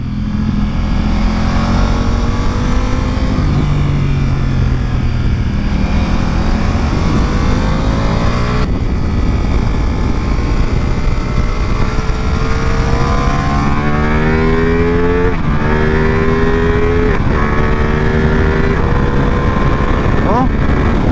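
A Ducati Multistrada motorcycle out on a racetrack during a track day, its engine droning steadily and rising in pitch through the gears, loud and close, with someone talking over it for much of the ride.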